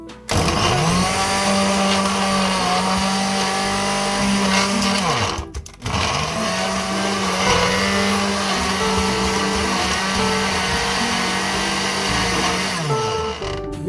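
Electric grinder whirring through a lamb biryani spice mixture, a loud steady motor drone in two long runs split by a brief pause, no voices.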